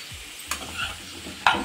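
Drumstick pieces drop into a pan of frying onions, setting off a soft sizzle with a couple of sharp clinks of a utensil against the pan, close and fairly quiet.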